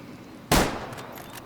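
Single hunting rifle shot in Way of the Hunter, a sharp loud crack followed by a short decaying echo, alone against quiet ambience.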